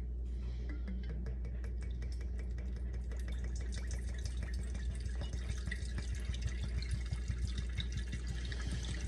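Whiskey trickles and splashes into a small 2-liter wooden cask, a continuous close pour with dense dripping and gurgling over a low steady hum.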